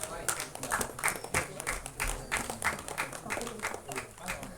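An audience at an album song screening festival applauds as participants receive certificates, producing a soft, fairly distant patter of many hands clapping in a steady rhythm under murmuring voices.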